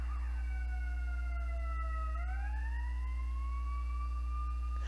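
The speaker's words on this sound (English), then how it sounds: "Guys, it's the ambulance." An ambulance siren wails through a full sweeping cycle, its pitch sliding down and then climbing back up, steady and moderately loud over a constant low hum, with no voices.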